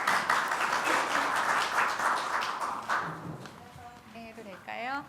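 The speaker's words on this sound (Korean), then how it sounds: "큰 박수로 맞이해 주시면 고맙겠습니다" Audience applause welcoming a speaker at a seminar in Yeouido, a dense steady clapping from a crowd that fades out as a voice begins speaking near the end.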